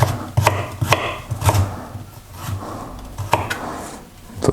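A knife chops carrots and onions into batons on a wooden cutting board in a series of sharp, close, loud thuds in an uneven rhythm, with a brief quieter pause partway through and no voices.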